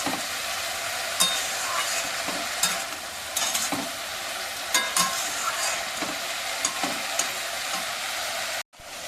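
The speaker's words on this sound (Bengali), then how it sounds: "উচ্ছে আর আলুটা ভাজা হবে।" Bitter gourd and potato pieces seasoned with turmeric and salt fry in a home kitchen pan with a constant bright sizzle. Spatula scrapes and clinks come every second or so, and the sound cuts off briefly near the end.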